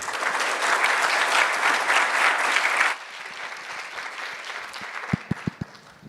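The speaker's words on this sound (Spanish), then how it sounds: "démosle un caluroso aplauso" Warm audience applause for a guest speaker at an international scientific symposium in Mexico, a thick burst of clapping that cuts off abruptly midway, leaving room noise and a few sharp knocks.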